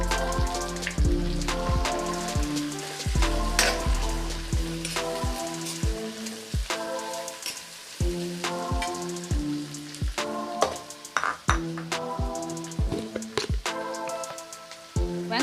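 Onions frying in hot oil with salt, a steady close sizzle and crackle broken by many sharp taps and clinks of a utensil against the pan.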